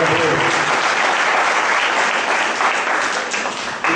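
A church congregation applauds, a dense steady wash of clapping from many hands that holds for several seconds and tapers slightly at the end.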